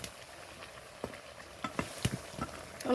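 Meat curry in a pot is stirred with a spoon, giving soft scraping and clinking strokes over a faint simmering hiss, close and quiet, a few irregular strokes across the moment.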